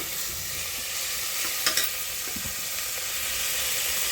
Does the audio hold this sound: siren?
no